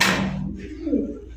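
Grey bar Lahori pigeons coo in a short, low, rounded burst that swells near the end, set against a brief noisy rustle at the start and a faint background murmur.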